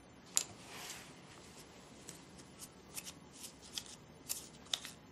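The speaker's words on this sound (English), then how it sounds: "Will you shuffle the cards, please?" A deck of alphabet cards being shuffled by hand, giving soft papery riffles and sharp flicks in an irregular rhythm, close and fairly quiet in an otherwise still room.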